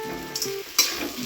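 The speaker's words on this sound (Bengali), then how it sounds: "এবারে ইডলিটা ফ্রাই হোক" Idli cubes and vegetables fry in a pan over a high gas flame, making a soft sizzle broken by a couple of quick stirring scrapes in a short, close burst.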